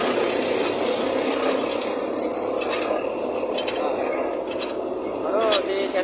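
A brick press machine grinding and pressing clay bricks with a continuous rough mechanical whir and rasp, steady and fairly loud, with a voice talking faintly over it.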